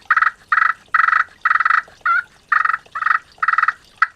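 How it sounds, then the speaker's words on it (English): Rhythmic purring strokes on a wet-one slate turkey call, about eight rolling, fluttery bursts in steady succession, loud and close with no voices. "You want to purr with it"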